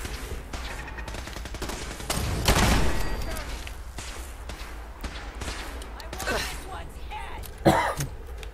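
Automated turret gunfire in Fallout 4 crackles in short bursts, with a louder volley near the middle and a sharp shot near the end, while people talk over the action.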